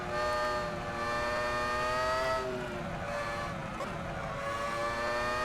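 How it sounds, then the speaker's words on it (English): High-revving Formula 1 V10 engine in the F1 2000 video game at the Japanese GP, a loud sustained tonal whine that climbs and drops through gear changes, heard from the cockpit. "The V10 wants to just spin you around."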